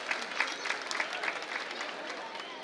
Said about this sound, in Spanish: Un fuerte aplauso para el municipio y su intendente Julián Álvarez.